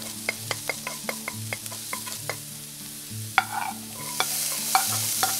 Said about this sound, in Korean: 어느 정도 익었다 싶으면 다른 야채도 모두 넣어서 함께 볶아주세요.